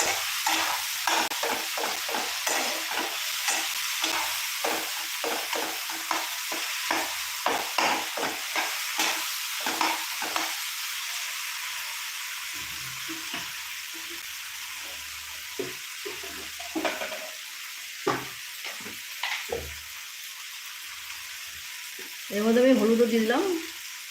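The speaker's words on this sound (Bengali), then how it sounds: "সেভাবে ভালো করে নাড়াচাড়া করছি আমি" Litti and brinjal chokha mixture with salt and biscuit is stirred in a pan, a run of rhythmic scraping strokes over a faint sizzle, thinning out toward the end with a brief louder clatter.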